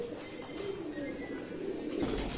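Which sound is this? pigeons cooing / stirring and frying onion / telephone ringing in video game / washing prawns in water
pigeons cooing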